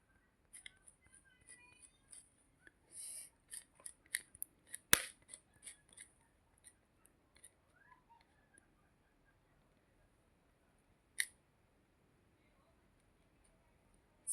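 Sparse, crisp snips of cutting into a round shape, scattered irregularly with one louder sharp snip in the middle and another later, set in an otherwise quiet room.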